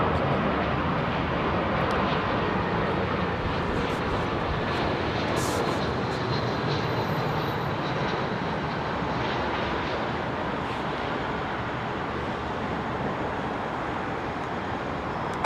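Jet airliners departing runway 27R at London Heathrow give a broad, steady rumbling roar that holds at an even, moderate level throughout, close but not overwhelming.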